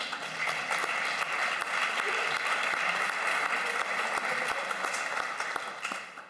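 Sustained audience applause at the inauguration of a university institute, a continuous even wash of many hands clapping in a large hall, heard alone.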